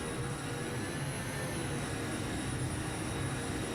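Airbus A318 jet engines in the FSX flight simulator give a steady, continuous whine and roar, even and unbroken throughout, with no talking.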